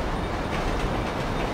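A train rolls past a level crossing in Grand Theft Auto V with a dense, steady rumble and rhythmic wheel clatter, loud and continuous throughout.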